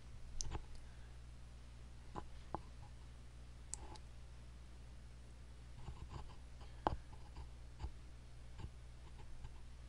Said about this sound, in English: It is done in just a few mouse clicks.